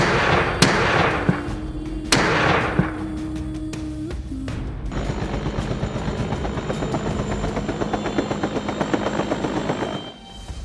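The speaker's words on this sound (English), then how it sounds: "helicopters are very fuel intensive, and their use over extended periods can contribute to environmental pollution" A helicopter flies over farmland with a steady rapid rotor chop and engine whine throughout, accompanied by several sharp cracking bursts early on, fairly loud and close, no voices.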